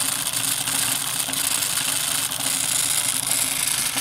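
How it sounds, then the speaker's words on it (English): A Wilesco D10 toy steam engine fired by solid fuel tablets runs steadily, giving a continuous light mechanical whir with a faint rhythmic chuffing, close and even throughout. "This is my Wilesco steam engine here."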